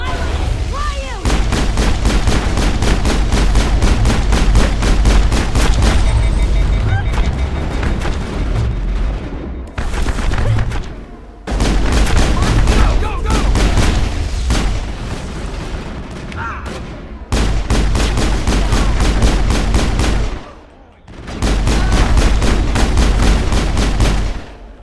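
Rapid, loud pistol shots fire in long sustained bursts in Mass Effect, broken by a few short pauses, with the shooting dominating throughout.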